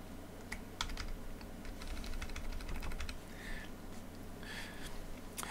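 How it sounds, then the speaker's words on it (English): Computer keyboard with arrow keys being tapped during layout editing in design software: soft, rapid clicking keystrokes, close and fairly quiet over a steady background hum, with no talking. "I could just use my arrows on my keyboard."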